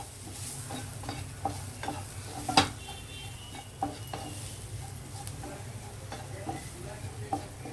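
Chilli powder and garam masala are being stirred into vegetables for veg paratha in a pan. A low frying sizzle runs underneath while a spoon scrapes and taps against the pan in soft, irregular knocks.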